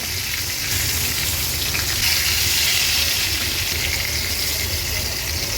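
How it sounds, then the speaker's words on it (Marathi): Fish frying in a pan for a Agri-Koli style fish thali, a loud, continuous close-up hiss of hot oil that swells slightly midway, with no talking. "दोन ते तीन मिनटं झालेत आपण ही मच्छी तळत ठेवलेली"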